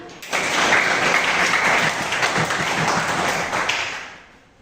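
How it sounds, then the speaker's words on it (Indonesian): Classroom applause in an Islamic senior high school religious lesson: a burst of many hands clapping together, loud and sustained for several seconds before fading out. "Untuk kita kasih aplaus lagi untuk kita bersama"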